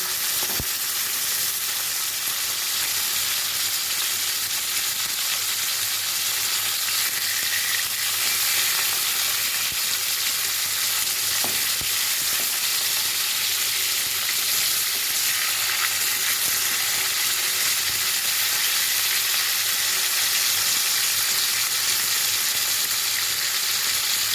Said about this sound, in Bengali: পটলগুলো আমি ভালো করে উল্টে পাল্টে ভালো করে ভেজে দেবো।